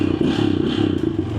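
An affordable motorcycle engine runs near at hand with a steady, rattly, clattering idle, alone without speech.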